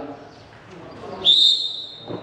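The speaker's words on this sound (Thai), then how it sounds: "เสียงลูกหวีดสั้นนะครับสั้นสองครั้ง" A police officer's whistle gives one short, sharp, loud blast near the end, set against faint background noise at a traffic stop for motorcycle sidecars.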